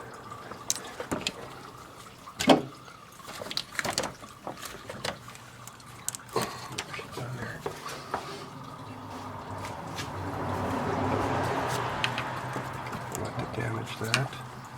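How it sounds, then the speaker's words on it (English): Coolant drains from the radiator of a 2006 Nissan Xterra, a soft continuous trickle and splash that swells later, broken by clanks of tools and parts while someone talks over it. "Fluid's still draining, it takes a while"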